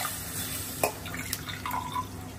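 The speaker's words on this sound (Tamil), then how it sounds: "3 டம்ளர் தண்ணி ஊற்றிட்டுனா ஆயிடும்." Water poured into a pot of rice in a home kitchen, heard as soft dripping and trickling with a few brief splashes over a steady background hum.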